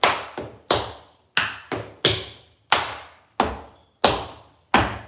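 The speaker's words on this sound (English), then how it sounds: "Just 4 sounds. Toe, heel, toe, heel." Crisp tap-shoe toe and heel strikes on a hard floor, about ten clean taps in a steady, slightly uneven rhythm, close and alone.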